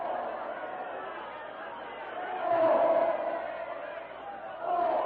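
A crowd scatters in panic from a charging jungle elephant in a radio drama, a dense, steady wash of frightened shouting and chatter that swells twice, moderately loud with no single voice standing out.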